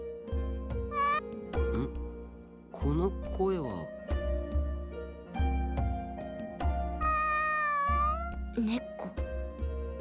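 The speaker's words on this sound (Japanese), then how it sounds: "この声は。猫。" Several cat meows in an anime sword-academy scene, rising and falling over a music score and background sound effects, with voices speaking between them.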